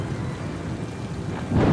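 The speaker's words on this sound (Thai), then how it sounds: "ในค่ำคืนที่ฝนตก" Steady rain with a low thunder rumble swelling near the end fills a nighttime scene in Oceanhorn 2, continuous and fairly loud with no talk.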